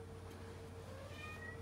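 A small kitten meows outdoors in hot weather, a thin, faint, drawn-out cry over steady low background hum.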